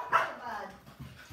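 A dog barks indoors, with a sharp yelp near the start and a few softer barks later over a quiet room.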